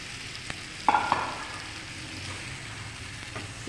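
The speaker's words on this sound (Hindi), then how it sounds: "अब इसके अंदर हम डालेंगे आलू।" Potatoes hit hot spiced masala with a sudden sizzle and a couple of stirring clatters, then the frying settles to a soft, steady crackle close by.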